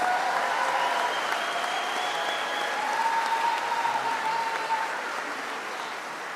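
Graduation ceremony audience applauds the graduates, a broad sustained round of clapping that holds steady and eases slightly toward the end.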